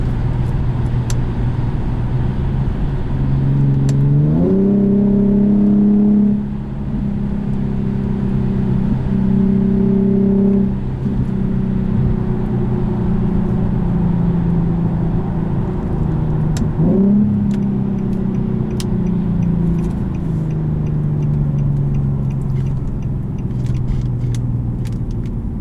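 A 2014 Infiniti Q60 IPL engine pulls loudly through its gears, with rising revs breaking at shift points around five, eleven and seventeen seconds before climbing again under a steady in-cabin drone.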